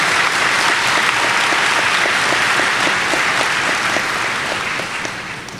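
A large audience applauds at a high school graduation, with dense continuous clapping heard loud and close throughout, tapering slightly near the end.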